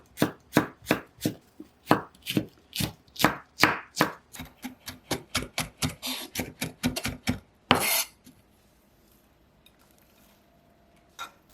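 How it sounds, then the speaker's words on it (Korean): Chives sliced finely with a knife on a cutting board, a quick run of about two dozen crisp, rhythmic chops close up, ending in a short scraping sweep before near silence. "부추 송송 썰어 넣으려고요."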